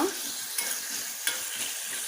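A tempering of mustard seeds, cumin, chana and urad dal, dried red chilies and curry leaves crackles and hisses in hot oil, a steady close sizzle with a couple of brief stirring knocks.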